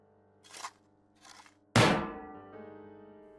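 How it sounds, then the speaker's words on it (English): A shovel thumps onto a coffin lid in a single loud, sharp blow that rings briefly as it decays, after two softer scraping strokes, with no talking. "There was a thump as the shovel hit the coffin lid."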